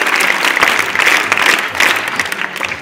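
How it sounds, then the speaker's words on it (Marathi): An interview audience breaks into loud, close applause with many hands clapping in a dense, uneven rhythm that swells and dips slightly before easing off at the end. "टाळ्याच लागल्या पाहिजे, टाळ्या."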